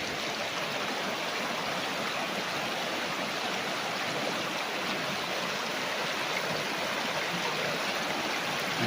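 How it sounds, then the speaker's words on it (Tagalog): A strong river current rushes past a farm lot in Majayjay, Laguna, giving a steady, dense broadband roar of flowing water that stays constant and fairly loud throughout, with no talking. "Lakas ng agos mga kapraps."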